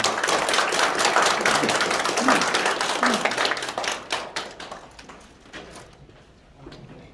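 An audience at a disability day awards ceremony applauds loudly, a dense round of many hands that thins into scattered claps and fades out near the end, with some voices mixed in.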